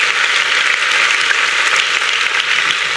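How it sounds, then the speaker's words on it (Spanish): A church congregation applauds loudly and continuously, a dense, even wash of many hands clapping with no voices standing out. "Denle un fuerte aplauso a Dios"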